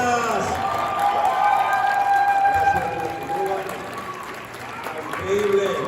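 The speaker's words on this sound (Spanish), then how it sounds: "Fuerte aplauso, aplauso, por favor." Audience clapping and cheering for a voice actor and singer at a fan event, loud and close, with shouting voices and talk mixed through the crowd noise.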